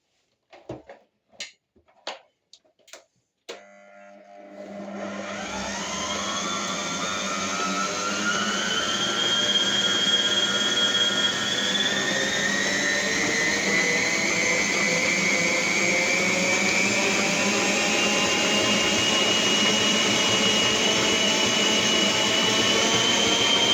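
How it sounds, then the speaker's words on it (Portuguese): A stand mixer spins up after a few sharp clicks and settles into a loud, steady whining hum, beating brioche dough at medium-high speed without a break for about twenty seconds. "vocês podem já aumentar a velocidade da batedeira para média alta, para ela aguentar bater bem"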